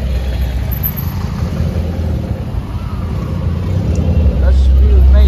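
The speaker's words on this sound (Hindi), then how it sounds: "ट्रैफिक बहुत ज्यादा है" Heavy street traffic in Chandigarh, a dense, continuous rumble of car and bus engines heard from close by, rising in loudness toward the end, with a voice talking over it.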